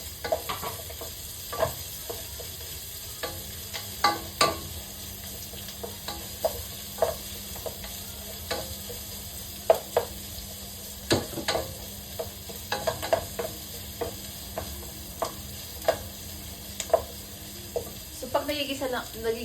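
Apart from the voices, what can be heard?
chicken feet and ginger sautéing in a pan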